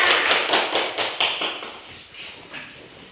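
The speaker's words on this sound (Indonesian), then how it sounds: "tepuk tangan untuk teman-temannya" Classroom applause for classmates, a small group clapping in quick, distinct claps that start loud and close, then thin out and fade toward the end.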